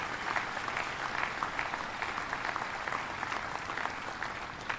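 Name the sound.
audience applause for shipbuilders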